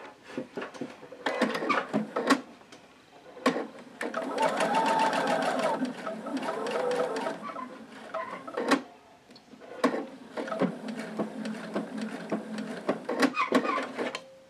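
A sewing machine stitches toward a seam in quick rattling bursts with pauses, a longer steady run near the middle, and a few clicks and handling knocks between runs.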